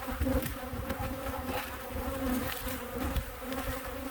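Carniolan honey bees fill a large stacked hive with a steady, dense drone of buzzing, close and moderately quiet, with no talking over it.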